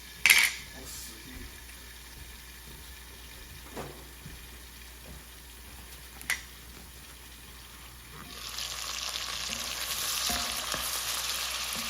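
Sliced Conecuh smoked sausage fries and browns in a pan for soup, with a few stirring clinks and taps, then a louder steady sizzle builds near the end.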